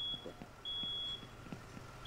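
Intermittent electronic beeping from a house smoke alarm in the firefighting game Firefighter Simulator: Into The Flames, faint and high-pitched, with long and short tones over low rumbling background noise.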